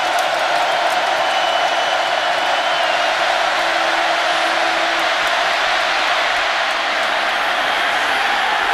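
Steady wash of a large football stadium crowd at Texas A&M, a continuous loud roar of thousands of voices holding level throughout with faint cheers rising inside it.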